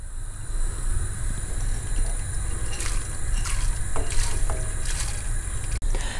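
Water is ladled from a small bowl into a pot of simmering vegetable broth for lentil soup, soft trickling pours and a few splashes over a low, steady background rumble.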